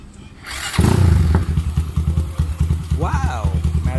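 A Suzuki Raider 150 motorcycle bored out to 235cc and fitted with an MRBA exhaust pipe starts from cold in the morning. It catches with a loud burst, then settles into a rhythmic, lumpy idle that pulses steadily close by.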